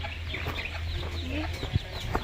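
Chickens cluck softly nearby on a farm against a steady low hum, with a few scattered sharper notes.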